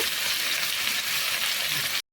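Potatoes frying in a pan for an ilish fish dish, giving a steady, close, dense sizzle that runs unbroken for about two seconds and then cuts off abruptly, with no talk over it.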